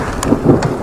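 Thunder from a nearby lightning strike in a rainstorm, caught while riding in the rain: a short, loud rumbling burst mixed with wind and rain noise.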